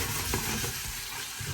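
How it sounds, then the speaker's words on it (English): Curry paste frying in hot oil in a pan for a Malaysian prawn and pineapple curry, giving a steady close sizzle with light stirring scrapes throughout. "When all it's hot, we take our paste and fry it."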